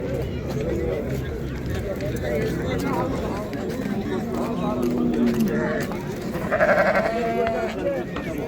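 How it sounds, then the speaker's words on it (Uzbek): Afghan sheep bleat at a Samarkand livestock exhibition, a few drawn-out, wavering calls rising over steady crowd chatter and people talking close by. "Avg'on qo'ylar."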